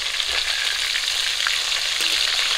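Flipped pieces of sole fish fry in hot oil, a close, constant, rain-like sizzle with faint crackles and a light clink partway through, no voices present.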